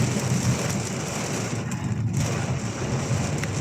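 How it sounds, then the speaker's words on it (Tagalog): Heavy rain pours over Manila as a dense, steady hiss with no pauses. It fills the whole stretch evenly and close by, with no voices. "pag nagtuloy-tuloy itong ulan na ito, delikado na magkakabaha."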